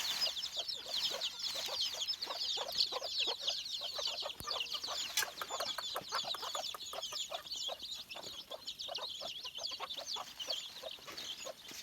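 Hens cluck with newly hatched chicks peeping among them, a dense, continuous chorus of overlapping high peeps and soft clucks, close and steady throughout.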